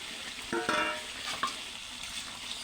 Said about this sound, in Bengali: এখন আমি এইখানে ভেজে রাখা মাছগুলো, দেখেন সব মাছগুলো দিয়ে দিব এখানে আমি